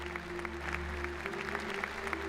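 Conference delegates applauding their deputy leader in a hall, a short spell of steady, close clapping over a low background hum.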